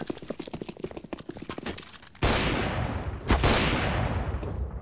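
Gunfire in a Counter-Strike match: a quick run of sharp clicky shots gives way to a loud, sustained roar of firing with a heavier blast partway through, close and dominant.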